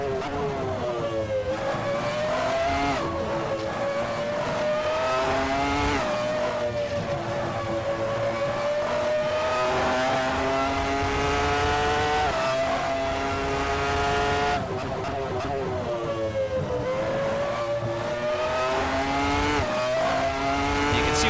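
Ferrari F310 Formula 1 car engine in Assetto Corsa, a high-pitched racing wail that climbs steadily as power is fed in, dips briefly on gear changes, then rises again, loud and continuous throughout with no talk.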